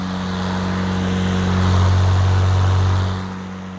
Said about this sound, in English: That's the sound of the mower.